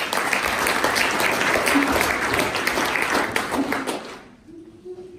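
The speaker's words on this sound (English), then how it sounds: "can I get like a round of applause for them?" An audience at an artificial intelligence meetup in Vilnius gives a round of applause, dense and lively clapping for about four seconds before it drops away abruptly, leaving a faint room tone.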